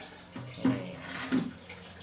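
A mixture is poured into a 20-litre watering can of water, giving a soft, close splashing gurgle with two brief louder gushes over a low steady background.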